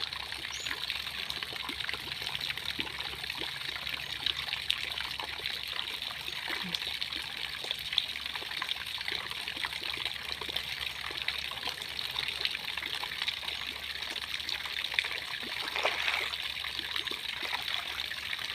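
Water trickling and pouring steadily while a small child is bathed, a continuous close splashing stream with faint voices now and then in the background.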